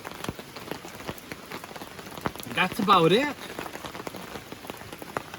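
Rain patters steadily at a river sluicing site on the Wild Ammonoosuc River in New Hampshire, a dense crackle of drops with sharp individual hits, while someone speaks briefly in the middle.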